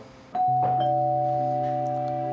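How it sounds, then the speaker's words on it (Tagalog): A doorbell chimes two bright tones that ring out and sustain, fading slowly in an otherwise quiet room. "Ang sarap naman marinig ng unang doorbell ng bahay na to."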